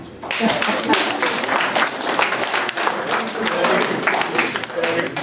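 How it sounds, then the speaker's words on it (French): An audience at a tennis tournament prize-giving breaks into sustained applause, many hands clapping steadily and fairly close, continuing evenly to the end. "j'aimerais bien que les jeunes applaudissent leurs parents"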